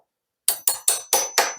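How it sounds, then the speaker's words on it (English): A hammer taps a cheap $8 block plane to adjust its blade: five sharp, ringing metallic knocks at a steady rhythm, each fading quickly. They are close and clear over silence. "So I'm going to adjust it with a hammer."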